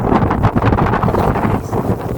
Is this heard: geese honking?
no